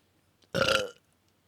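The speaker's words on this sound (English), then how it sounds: "I should really stop burping loudly on stream" A single loud, drawn-out burp lasting about half a second, close to the mic, surrounded by quiet, from a gamer on a live stream.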